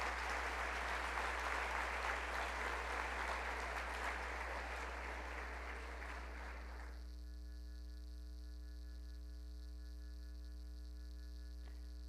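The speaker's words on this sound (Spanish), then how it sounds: "Demos un fuerte aplauso a los estudiantes de la Universidad Técnica Particular de Loja" Audience at a 2014 mayoral candidates' debate in Loja applauding university students, a broad, sustained clapping that cuts off after about seven seconds, leaving a steady electrical hum and faint static alone.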